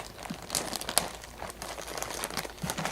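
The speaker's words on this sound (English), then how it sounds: "it's a big old zipper bag" A large plastic zipper bag crinkles and crackles as it is handled, with irregular close-up rustles and sharper crunches over about three seconds.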